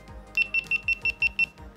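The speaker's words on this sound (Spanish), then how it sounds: "Todo ese pitido quedó en el producto final." A camera left with its sound enabled emits a rapid series of about seven short, high electronic beeps in an even rhythm, fairly faint and alone with no talking.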